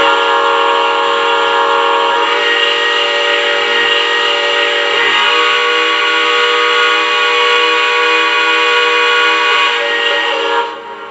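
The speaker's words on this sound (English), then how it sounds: "I'm going to go ahead and hit that whistle again" Sustained steam whistle from a Lionel Legacy AT&SF 4-8-4 Northern model locomotive, a loud, steady multi-tone chord held for about ten seconds before cutting off, heard alone without talk.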